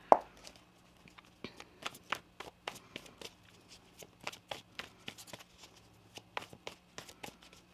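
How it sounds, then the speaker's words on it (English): A deck of tarot cards being shuffled by hand at close range, with a series of crisp, quick riffles and soft slaps in irregular bursts and no one talking. "One more shuffle here."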